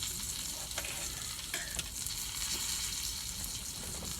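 Mushrooms fry in a pan for a keto breakfast, a steady close sizzle with a few clinks and scrapes of stirring and no talk.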